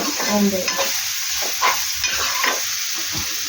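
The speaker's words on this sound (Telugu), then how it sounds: "ఇదంతా బాగా కలిపి అది ఫ్రై అవ్వాలా ఏంటి కొద్దిగా ఐదు నిమిషాలు పచ్చివాసన పోయేదాకా" Tender tamarind leaf curry mixture frying in a pan, a constant sizzle with several distinct spatula stirring scrapes, close and loud, with no talking.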